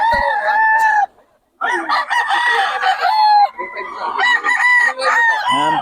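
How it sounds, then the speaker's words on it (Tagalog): Roosters from Batangas crow repeatedly and loudly up close, several long cock-a-doodle-doo calls overlapping with clucking fowl, with a brief pause near the start. "Yung ganda ng manok niya ni Boss Ben."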